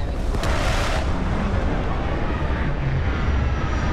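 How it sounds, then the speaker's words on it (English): Spaceship retro thrusters fire during a landing in the Starfield video game, producing a steady, heavy roar that fills the whole span at an even level with no talk. "Landing struts primed. Retros firing."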